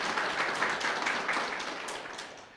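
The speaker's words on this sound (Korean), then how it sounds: "박수 한번 칠까요?" Brief applause from an audience at a Korean political campaign pledge announcement, moderate clapping that fades out within a few seconds.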